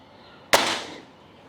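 A single sharp report from a Gamo Swarm Magnum Pro break-barrel air rifle, fired once up close, with a crisp crack followed by a brief decaying ring.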